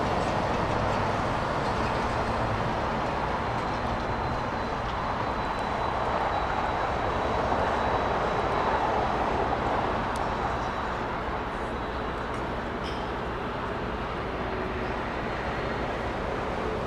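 Steady broadband roar of a Boeing 767 airliner taxiing at LAX, heard from a distance as a continuous rumbling wash with a faint high whine, no voices over it.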